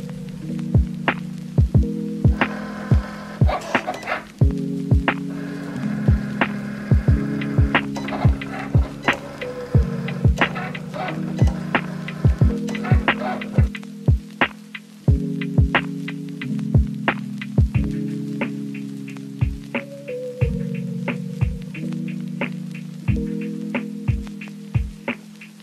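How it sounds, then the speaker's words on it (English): A Cricut cutting machine running, a steady motor hum that shifts pitch in stepped patterns, punctuated by sharp ticking clicks throughout, close and alone. "Forgotten how fun it was to use the Cricut and how fun it was to watch it go."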